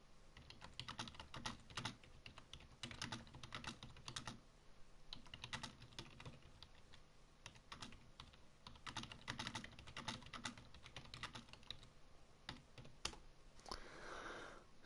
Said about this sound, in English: Just typing to people.